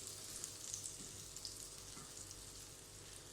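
Minced meat sizzles in melted butter in a home kitchen pan, a steady close frying hiss with faint crackles and no talking.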